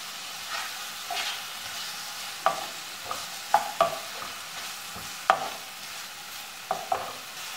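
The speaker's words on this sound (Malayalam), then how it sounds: "ഇനി ഇതെല്ലാം കൂടെ നന്നായിട്ട് വഴറ്റിയെടുക്കാം." Tomato rice ingredients, including garlic, fry in a pan for a Kerala-style dish. A soft, steady sizzle runs throughout, broken by sharp spatula clicks and scrapes against the pan every second or so.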